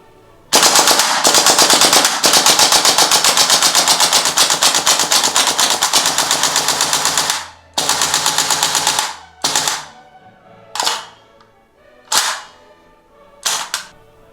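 A GHK AKM V3 gas blowback airsoft rifle fires BBs: a long, loud full-auto burst of sharp rapid clacks, then several shorter bursts and single quick strings separated by silence.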